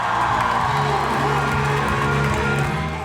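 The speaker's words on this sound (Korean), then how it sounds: "우리나라 브레이킹 국가대표 김예리가 화려한 기술을 선보이자 객석에서 환호성이 터집니다." An audience roars and cheers continuously during a breakdancing performance in France, a loud, dense crowd wash holding steady before easing off at the end.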